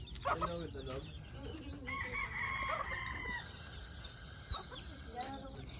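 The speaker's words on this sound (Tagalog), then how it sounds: "Mga chickens." Chickens at a mountain campsite crow and cluck repeatedly at moderate distance, with several overlapping calls and a clear rooster crow in the middle, while faint background voices and camp noise continue underneath.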